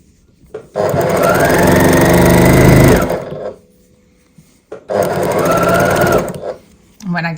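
A sewing machine back-stitches a quilt seam in two loud, close runs of rapid mechanical whirring, each a couple of seconds long, separated by a brief pause, with a short burst starting again at the end.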